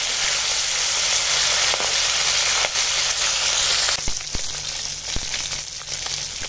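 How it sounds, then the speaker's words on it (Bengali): Fish fry in hot oil, a loud, continuous sizzle with crackles that eases toward the end, broken by a few sharp spatters or utensil knocks, with no voices. "দেখো এই মাছগুলো ভাজা হয়ে গেছে, এবার তুলে নিই।"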